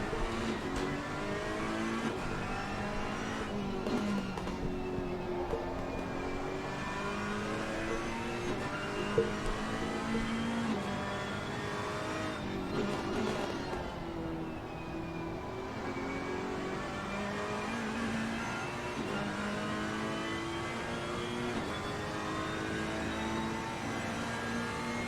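Race car engines in Assetto Competizione at Brands Hatch on a test day drone steadily with rising and falling revs through gear changes, a continuous close whine with cars passing.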